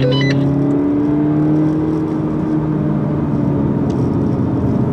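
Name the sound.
2015 Seat Leon Cupra 280 engine while driving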